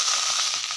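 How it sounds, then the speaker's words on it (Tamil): Okra frying in a pan over a low flame gives a steady, close sizzle with a bright hiss throughout a brief moment. "இதில் வெண்டைக்காயை போட்டு நல்லா ஃப்ரை பண்ணிடலாம்"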